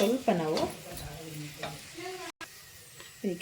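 Chopped ladies finger (okra) frying and being stirred in a pan for curry, with soft scraping stirs and a low sizzle under a woman's speech, close by.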